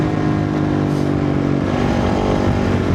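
A Kove motorcycle engine revs hard and high in the desert, a dense, steady, loud mechanical roar with sustained harmonics that hold level for about three seconds, no voices.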